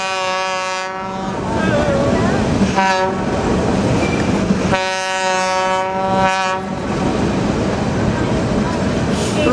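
Georgetown Loop narrow gauge train in Colorado rolling along its tracks, with steady rumbling wheel noise and repeated loud horn blasts sounding close and dominant throughout.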